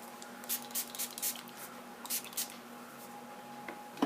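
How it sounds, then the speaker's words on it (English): Rubbing alcohol sprayed from a bottle onto nails: a series of short, faint hissing spritzes in irregular bursts over a quiet steady hum. "And I just take my alcohol and I just spray it"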